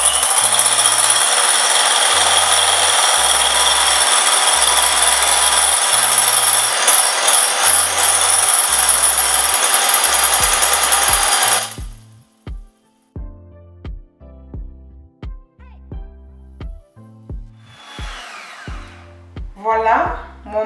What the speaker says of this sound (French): Je vais utiliser dans cette recette mon batteur électrique.